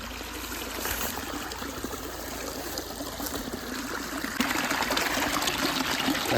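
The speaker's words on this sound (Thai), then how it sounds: "น้ำตรงนี้ไหลมาจากเทือกเขาใหญ่ครับ เป็นส่วนหนึ่งของน้ำตกทานทิพนะที่ไหลลงมา" Clear mountain water from the Khao Yai range, part of the Than Thip waterfall's rainy-season flow, runs down into a garden stream, giving a steady, close, rushing trickle with no voices.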